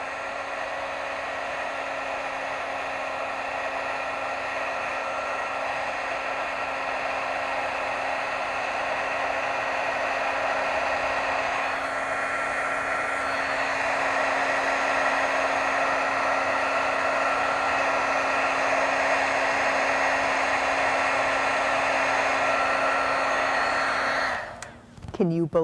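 Heat tool blowing on white liquid applique over a stamped card, a steady close whirring hum with an airy hiss that holds for about twenty-five seconds before cutting off with a clunk.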